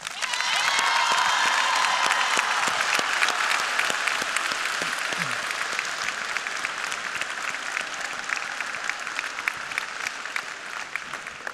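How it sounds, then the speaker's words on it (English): A school assembly audience at Milton Hershey School gives a steady, full round of clapping and light cheering for a guest, Mrs. King, sustained throughout without talk. "Can we give her a round of applause?"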